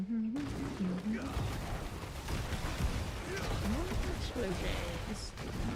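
Explosions rumble in the video game Diablo IV as a Warlock fights amid downpours and water elementals: dense, continuous booming gunfire-like blasts filling the scene, with a voice speaking over the top.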